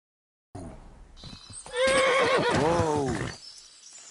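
A horse in Kingdom Come Deliverance 2 lets out a loud, wavering whinny that rises and falls over a couple of seconds, with faint hoof clatter and rustle before it and the call tapering off at the end.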